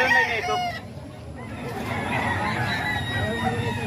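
A large rooster, about nine months old, crows amid a busy background of other fowl, with its call rising and stretching out near the start before settling into steady clucking and farmyard noise.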